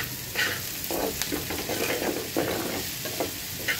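Onions sizzle and crackle as they fry in hot oil in a home kitchen, a steady close sizzle with occasional stirring scrapes and no talk.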